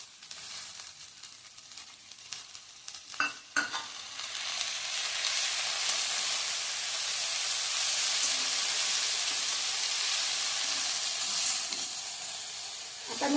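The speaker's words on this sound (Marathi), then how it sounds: "आणि लगेचच त्यावर ही भिजवून ठेवलेली डाळ घालायची." Soaked lentils hit a pan of dill greens and start frying with a few clattering stirs, then a loud, steady sizzle and hiss that fills the rest, close up and without talk.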